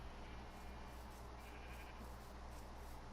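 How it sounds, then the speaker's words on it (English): Sheep in the Minecraft video game bleat faintly, nearly buried under a steady wash of broadband background noise in a quiet passage. "Back here, we got every color sheep."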